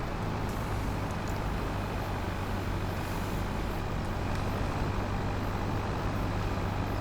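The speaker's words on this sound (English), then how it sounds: "let's really test this JCB. Can it pull this up the hill?" A JCB tractor in Farming Simulator 25 pulls a heavy load up a hill, its engine a loud, steady, unbroken low rumble held under strain for the whole stretch.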